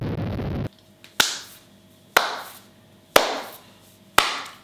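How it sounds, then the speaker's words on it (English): Four sharp, separate claps ring out one after another at steady intervals, each with a short echoing decay, after a brief burst of broadband noise at the start, with no voices. "I'm gonna have to give him a round of applause,"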